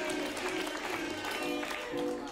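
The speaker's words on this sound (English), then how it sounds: "Let's give her a round of applause for being an Aries like me" Applause from an audience at an improv comedy show, with clapping mixed among voices and laughter-like crowd sound, staying loud and busy across a couple of seconds before a brief swell near the end.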